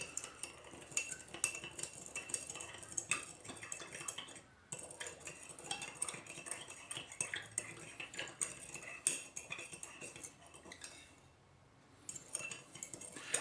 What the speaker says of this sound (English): give that a good stir to dissolve it all into a sugar syrup